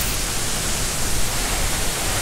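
Steady, loud broadband roar of Timponan waterfall crashing down nearby, a continuous even rush with no voices, filling the whole stretch.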